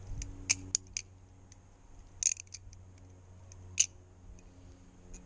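An NRB Konig V2 balisong knife is flipped, giving sharp metallic clicks and clacks in scattered bursts against a quiet background, close and crisp.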